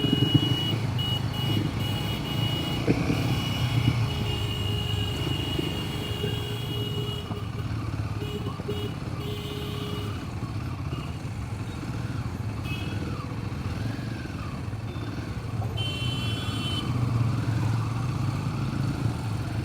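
A Royal Enfield Himalayan 450 on the move, its steady engine drone and road rush running continuously throughout, loud and close with slight pitch shifts as the bike rides on.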